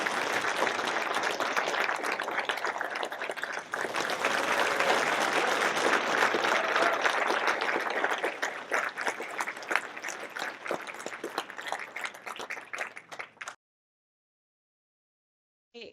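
Sustained applause from an audience at an awards celebration for honorees, dense and steady clapping that thins toward the end before stopping abruptly into silence.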